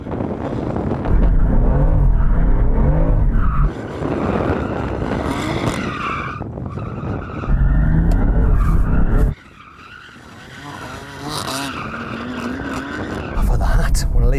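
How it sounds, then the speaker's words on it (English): Rear-wheel-drive BMW tyres skidding and squealing in loud bursts while warming up before a drag race against an M3 Touring, engine revving hard between spins, with short lulls and a voice talking partway through. "I better warm up my tyres."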